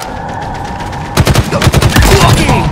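Gunfire in the Halo Infinite video game erupts into loud, dense rapid bursts after a second of steady game sound, with faint voices mixed in.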